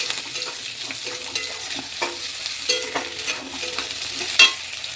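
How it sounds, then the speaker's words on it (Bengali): Capsicum fries in a pan for chicken chow mein, a continuous close sizzle with a few soft stirring knocks and one sharper clink near the end, no voices. "ক্যাপসিকাম দিয়েও একটুখানি ভেজে নেবো"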